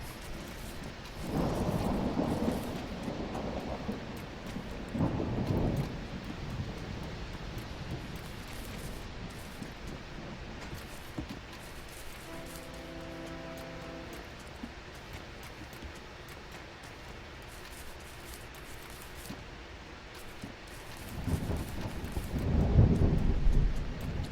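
Rain and a thunderstorm in the farming game Landlord's Super: a steady patter of rainfall underlies several deep rumbles of thunder, with one swelling early on and another building strongly near the end.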